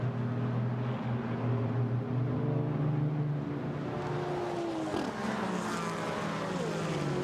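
GT4 race cars howl through Monza's Parabolica corner, several engines droning at sustained high revs with pitch shifts as cars pass and change gear, a steady blended roar at a moderate distance.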